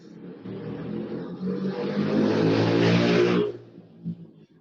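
A motorcycle passing outside a classroom, its engine note swelling from a distant whine to a loud, close drone for a couple of seconds and then cutting away, followed by faint room noise.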